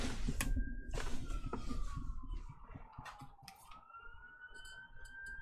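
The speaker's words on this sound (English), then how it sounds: "Now, here come the sirens. It's ambulances," Ambulance sirens wail past, their pitch sliding down and shifting between tones, loud and fairly close, with clicking and ticking sounds mixed in.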